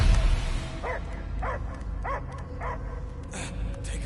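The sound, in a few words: dog barking in Guardians of the Galaxy video game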